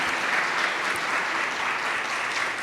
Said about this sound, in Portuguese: Mais uma vez, uma salva de palmas para o Padre Djalma.